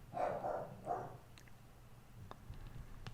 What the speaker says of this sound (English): I don't know why the hell my dog's still barking.